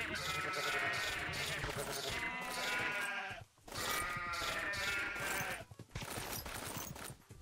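Sheep in the Minecraft video game bleat over and over in dense, loud, overlapping calls, with a short gap midway, close and with no talking.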